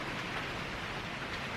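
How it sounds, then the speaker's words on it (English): Spring rain falls outdoors in a steady, even patter with a constant wash of noise and no distinct drops standing out. "Then it just started raining."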